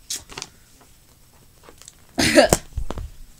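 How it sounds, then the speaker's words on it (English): A couple of harsh, close coughs break a quiet stretch, the second burst shorter and followed by a rougher cough. "Cough, cough, choke, choke."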